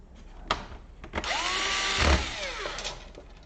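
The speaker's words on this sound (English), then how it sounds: "Let's put just a couple of screws in place here" An electric screwdriver drives screws into a CyberPowerPC Tracer laptop during a charging port repair: short motor whirs with rising and falling pitch sweeps and a few clicks, close and moderately loud, with no talk.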